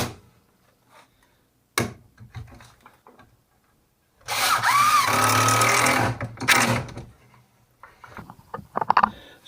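Screws driven into a wooden leg of a drill press stand, a near, loud whirring power-drill burst of about two seconds with short taps and knocks before and after.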